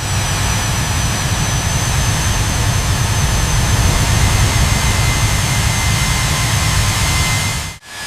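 A Grumman F9F-8 Cougar jet engine runs with a loud, steady roaring whoosh and a faint high whine, continuous and close, cutting off abruptly near the end.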